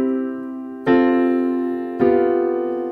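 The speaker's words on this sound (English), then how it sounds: "if you don't lift your pedal between chord changes or when there's a change in harmony, your sound is gonna get real muddy." Piano chords with the sustain pedal held through changes in harmony, so two fresh chord attacks pile onto the still-ringing earlier notes and blur into a thick, muddy wash with no gap.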